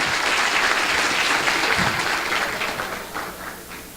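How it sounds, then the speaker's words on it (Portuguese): An audience at a panel presentation applauds the technical team with dense, sustained clapping that gradually fades toward the end. "Palmas para a equipe técnica que me ajudou ali."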